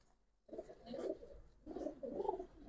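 Two close, low throaty coos from a colouring pigeon, each rolling burst lasting about a second with a short quiet gap between, heard alone in a quiet space.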